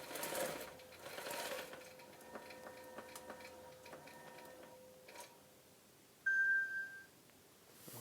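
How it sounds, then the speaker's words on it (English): A quilting machine stitches the outer line of a fabric Christmas tree skirt, giving a faint, quick mechanical ticking hum, with a brief high electronic beep near the end. "I think it just needs to do one more lap of that outer line stitching"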